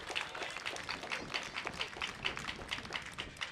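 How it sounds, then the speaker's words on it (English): Crowd applause for the Prime Minister at a Garifuna Settlement Day event in Dangriga, a dense, steady wash of many hands clapping, fairly distant and even throughout. "Could we give the Right Honorable Prime Minister a huge round of Dangriga applause?"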